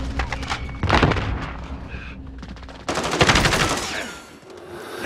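Rapid automatic gunfire and bursts of shots in Call of Duty Warzone, loud and close, with a thumping impact, a short lull and then a second dense volley.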